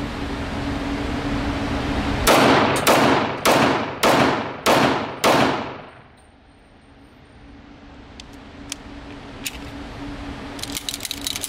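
Atlas Gunworks Nemesis 2011 pistol fired in a quick string of about six loud, close shots, then the firing stops abruptly, leaving quiet outdoor ambience with a few faint clicks.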